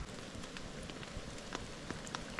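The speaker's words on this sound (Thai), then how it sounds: "โหฝนตกหนักเลยพี่ชาย" Heavy rain falling in a forest at dusk, a dense steady hiss of drops pattering on leaves and surfaces with scattered sharper splats, close and continuous.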